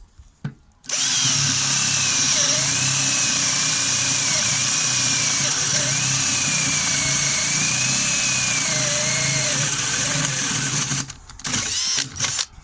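A Ryobi power drill whines loudly and steadily for about ten seconds with a large spade bit boring through wood, pitch wavering under load, then stops with a few brief rattles.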